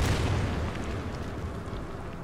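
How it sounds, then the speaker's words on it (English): A heavy artillery blast in the strategy war game Order of Battle: one loud, deep boom that rolls off into a long rumbling decay, with no other sound. "we'll attack these guys with artillery"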